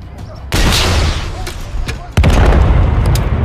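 A helicopter is shot down in Call of Duty: Modern Warfare 3, with two heavy booming blasts and crackling fire over a dense rumble of battle noise, loud and close.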